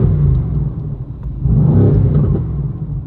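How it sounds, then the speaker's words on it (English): A car engine revs in neutral, heard from nearby as a loud, low rumbling drone that swells in a strong rev partway through and then settles back to a steady roar. "Can you rev it from the inside too, so I can see what that sounds like?"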